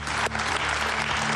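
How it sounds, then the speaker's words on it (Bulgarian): Studio audience applause on the Bulgarian game show Deal or No Deal, loud and dense throughout, with music underneath. "Силни аплодисменти и започваме играта на Марти от Милано!"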